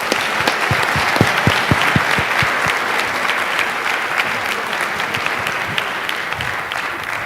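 Audience applause welcoming a panel at a conference session, dense steady clapping from a crowd that starts strongly and continues evenly throughout.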